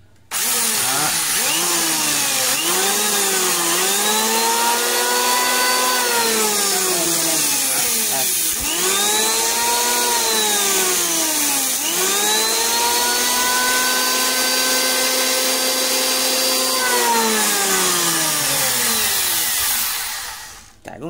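A Makita 1911b electric wood planer spins up and runs with a loud, close, high motor whine that rises and dips in pitch as it cuts across the wood, then winds down at the end.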